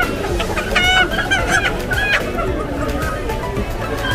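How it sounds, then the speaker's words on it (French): Hens and other poultry cluck and squawk in a dense, continuous chorus at a busy poultry market in Agoè, Lomé, Togo, loud and close, with indistinct market voices mixed underneath. "C'est le marché de poules, des canards."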